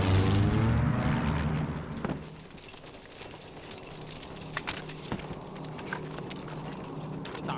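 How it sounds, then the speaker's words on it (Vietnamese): An airplane drones in an action film scene of a military fleet flying long-distance, a loud rumbling engine roar that fades after the first two seconds into a lower steady hum with scattered thuds and rustles, without speech. "Máy bay từ đâu đến vậy ma quỷ thật."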